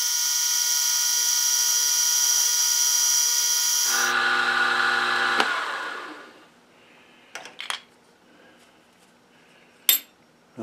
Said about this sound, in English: I think we'll do some pilot holes before we move up to the final sizes.